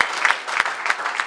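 A congregation claps at a New Year's Eve service in a Grenoble church, a dense, steady patter of many hands close by with a few sharper accents, no voices over it.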